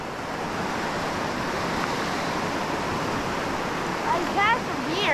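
Fast-flowing river water, a dense, constant near roar filling the whole stretch at steady loudness, with a faint higher call near the end.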